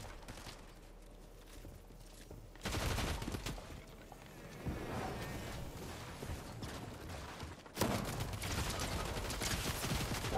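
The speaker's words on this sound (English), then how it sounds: "the drum gun just couldn't finish" A drum gun in Fortnite fires in two long bursts of rapid automatic shots, crackling and dense, with a softer stretch of scuffling movement and background game noise between them.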